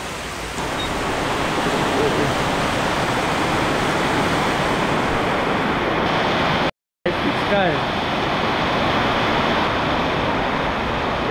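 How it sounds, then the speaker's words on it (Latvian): Typhoon rain and wind pour onto a flooded street in Hanoi, making a loud, steady broadband roar that fills the whole stretch, broken only by a brief dropout partway through. "Ja māte daba saka līt, tad līt."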